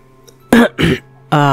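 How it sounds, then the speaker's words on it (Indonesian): A person clears their throat several times, three short rough bursts with brief pauses between them, loud and close. "Sita berdehem beberapa kali."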